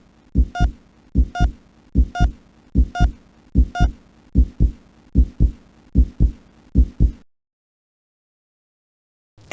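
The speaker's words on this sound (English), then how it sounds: "your heart beats faster and more powerfully to increase the amount of blood being pumped around your body" Human heartbeat from a body animation, quickening as the body starts to run: nine or ten loud, close lub-dub double thumps at a steady rhythm, then sudden silence.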